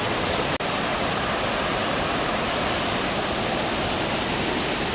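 Bantakay Falls roars as a loud, steady wash of falling water heard close by, a dense unbroken rush broken only by one tiny momentary dropout near the start.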